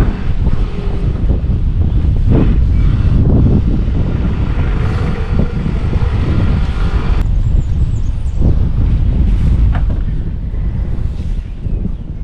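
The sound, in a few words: wind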